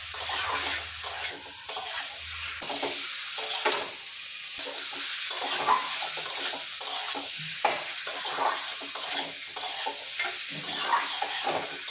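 Meat hitting a hot pan for a home-cooked curry, frying with a steady bright sizzle and repeated stirring scrapes throughout, fairly close and continuous with no talking.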